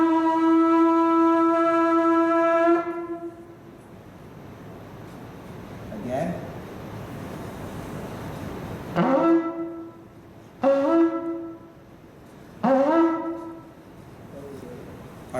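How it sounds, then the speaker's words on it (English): A shofar sounds a long, clear, steady blast, then after a pause three shorter, separate blasts, in a room with a speaking voice heard between them. "do you want me to sound this shofar?"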